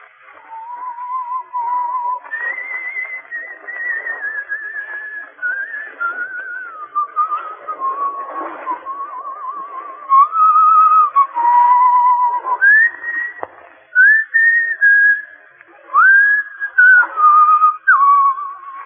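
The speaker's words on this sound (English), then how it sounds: "He will pass the word Blackstone and whistle Annie Laurie." Whistling of the tune Annie Laurie, a clear, steady melody with held and gliding notes, close and loud throughout with no talk.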